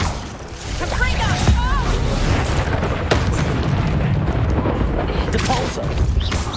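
Hogwarts Legacy combat with fiery Confringo spell blasts: booming bursts and crackling impacts over a busy rumbling background, mixed with shouted game voices.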